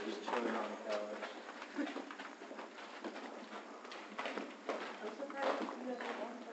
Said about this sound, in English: Say hi to the birds.